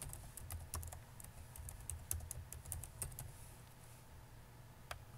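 Typing on a computer keyboard while entering text into an Excel worksheet tab, a quick run of light key clicks over a low steady hum, fairly quiet and close, no voices.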